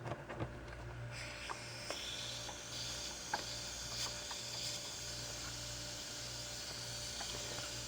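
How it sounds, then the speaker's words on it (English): A freezer lid's vacuum-relief cap is turned, giving faint ratcheting clicks followed by a soft, steady hiss of air leaking in, quiet and close with a few small mechanical ticks. "you can turn the cap and open it, and you'll hear the hissing sound as the vacuum is relieved"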